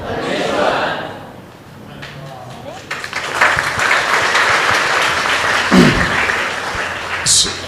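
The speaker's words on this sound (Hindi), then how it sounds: "अब आपने ताली क्यों बजाई मुझे नहीं पता" An audience at a talk claps in a broad burst of applause, mixed with a speaker's voice and some crowd noise, rising and fading over several seconds.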